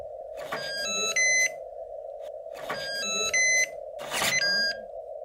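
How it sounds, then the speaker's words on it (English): A shipboard alarm in a science-fiction radio drama sounds as a loud steady electronic tone, broken by three repeating bursts of bright warbling beeps at regular intervals, with no talking. "Those alarms are foolproof."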